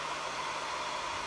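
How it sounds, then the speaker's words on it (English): A blow dryer runs steadily to dry paint on a handmade wooden bee decor sign, giving a continuous, close, even roar of rushing air with no talk over it. "So I always typically use my blow dryer and speed up the process, especially if you're layering."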